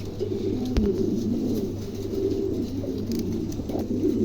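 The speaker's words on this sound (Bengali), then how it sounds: "খুবই চমৎকার একজোড়া কবুতর রানিং কবুতর" Pigeons coo in a low, repeated murmur, a pair of large German running pigeons offered for sale, heard close and steady with no talking over them.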